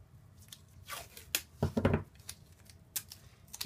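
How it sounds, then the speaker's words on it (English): Tape is pulled and pressed down onto the base of a Robinson Crusoe model during assembly: a handful of brief, crackly rips and rustles, close and fairly quiet, separated by short pauses. "And tape it down"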